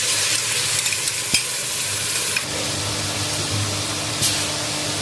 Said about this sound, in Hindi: प्याज हमने अच्छे से भुनाई कर ली है